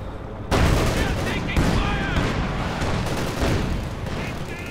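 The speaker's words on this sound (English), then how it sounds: "MG42 through the snow." MG42 machine gun fire in the Company of Heroes 2 video game, dense sustained bursts mixed with other gunfire and battle noise, loud and continuous over a few seconds, with a commentator talking over it.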